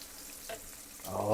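Pork chops frying in hot oil, a short burst of soft sizzling that swells louder toward the end.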